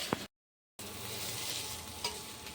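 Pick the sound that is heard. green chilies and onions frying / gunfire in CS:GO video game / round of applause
green chilies and onions frying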